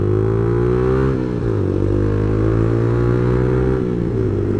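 A Yamaha MX King 150 motorcycle fitted with a custom exhaust runs loud and close, its engine holding a steady drone that dips and rises in pitch with changes in throttle.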